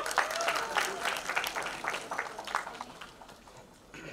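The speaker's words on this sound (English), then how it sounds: "So ladies and gentlemen, can we have a big round of applause for Satyaraj sir?" Applause at a film trailer launch event, a moderately distant burst of clapping and crowd noise with scattered sharp claps, gradually thinning and fading toward the end.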